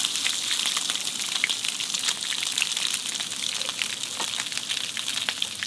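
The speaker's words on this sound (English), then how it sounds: "And then we're gonna put them in the hot oil," Breaded, Cajun-spiced pieces crackle and hiss steadily in hot oil, a dense, continuous frying sizzle with scattered bright pops, close and fairly loud throughout with no voices.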